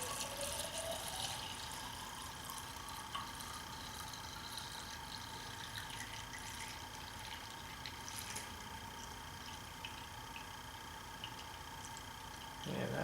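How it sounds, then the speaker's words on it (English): BMW 50-50 coolant poured into the cooling system of an N51/N52 six-cylinder engine, a steady close liquid trickle and splash running nearly unbroken, with no talking. "Okay, now I'm going to add coolant."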